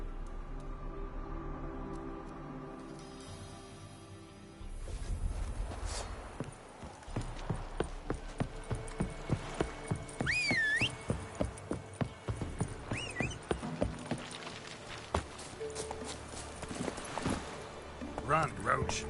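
In The Witcher 3, the horse Roach breaks into a gallop with fast, rhythmic hoof clops that build and continue to the end, after a stretch of voices and ambient game sound.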